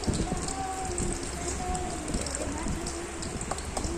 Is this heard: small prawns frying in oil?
yes